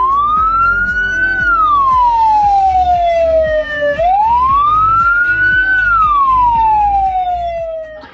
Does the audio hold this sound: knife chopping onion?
no